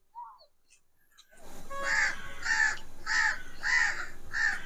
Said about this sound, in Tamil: இப்போ வந்து நம்ம வந்து காக்கா சவுண்ட் வச்சு பார்க்க போறோம்